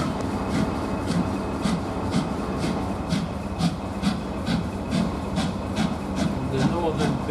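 A northbound heritage train departs Kingscote station, rumbling along with rhythmic clicking from the wheels and steady mechanical noise, sounding close and fairly loud as it pulls away.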